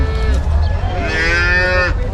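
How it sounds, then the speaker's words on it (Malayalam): At a cow market, a cow lets out one loud, drawn-out moo lasting about two seconds. It is close by and heard on its own. "ഇതെല്ലാം നല്ല ഫാമിലിക്ക് പറ്റിയ അടിപൊളി പശുക്കളാണ്"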